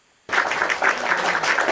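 A crowd bursts into steady applause that starts abruptly and holds at an even, dense level of clapping.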